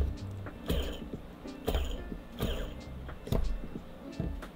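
A cleaned FPV drone brushless motor spins roughly, giving a faint uneven ticking and grinding with sharp clicks roughly every second.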